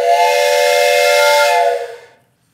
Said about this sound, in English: It's a pretty cool train whistle.